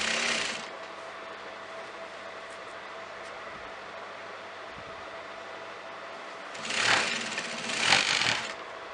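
A sewing machine runs in a steady, even hum while stitching a front pleated kameez from the shoulder down, with short louder bursts of fabric handling near the start and end and no talking.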